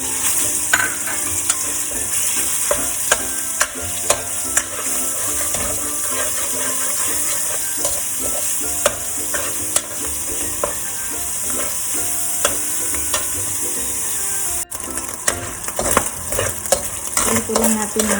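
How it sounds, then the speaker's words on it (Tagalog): A small amount of meat sautés in a pan with a constant loud sizzle, punctuated by frequent scraping and stirring clicks from a utensil, with no voices. "Sangkutsa muna natin yung konting karne."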